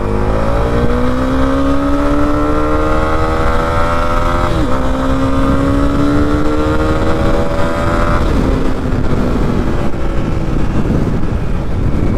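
A 2022 Honda CB 300R naked sport motorcycle pulls hard in second gear, its engine note climbing steadily and loudly with a brief dip near a shift, recorded close over constant wind rush.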